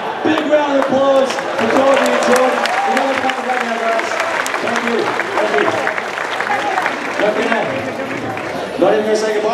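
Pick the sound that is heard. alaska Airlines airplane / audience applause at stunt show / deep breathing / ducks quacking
audience applause at stunt show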